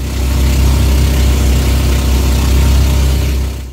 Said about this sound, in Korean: 우와, 엔진 소리가 장난 아닙니다.